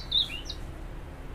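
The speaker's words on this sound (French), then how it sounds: "Ouais, et il me répond l'oiseau en plus." A single bird gives a short, bright chirp outdoors, fairly close and alone against a quiet background, answering back after a pause.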